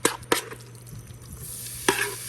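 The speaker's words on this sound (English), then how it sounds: "Listen to that sizzle." Chicken sizzles as it fries in hot oil in a pan for nachos, a steady close crackle with a few sharp louder bursts near the start and end.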